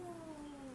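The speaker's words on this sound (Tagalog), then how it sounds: "Pinakain ko ng cat food ng bisita natin pusa mga guys." A cat gives a single drawn-out meow, a brief tonal cry that slides slightly downward, heard up close.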